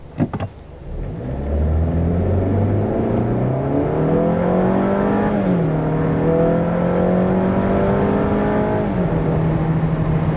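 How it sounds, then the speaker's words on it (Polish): A Range Rover Evoque 2023 SUV with a 2.0-litre 300 hp AWD engine roars as it accelerates hard from 0 to 100 km/h. The pitch climbs through several gear changes, loud and close, with no voices. "300 koni pod maską tak przyspiesza od 0 do setki"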